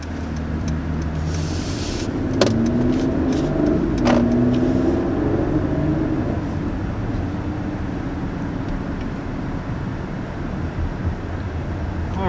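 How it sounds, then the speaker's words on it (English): A 2020 Mercedes GLS 450 pulling away from a start on the road, heard from inside as a steady, moderate engine and road hum with a few faint clicks early on. "we just got a little short initial takeoff here in the GLS"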